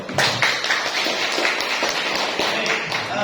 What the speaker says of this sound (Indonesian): Beri aplaus untuk Emi dong